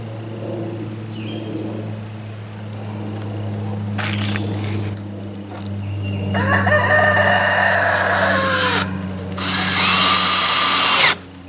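A power drill drives self-drilling screws into a metal camper frame, whining in several bursts that grow louder toward the end, with a rooster crowing and a steady low hum in the background.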